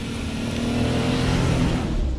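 A 2025 Jeep Wrangler Sahara's V6 engine revs steadily and loudly up close, a continuous throaty drone with no voices.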